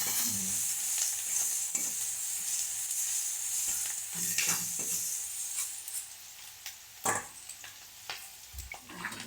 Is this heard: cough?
no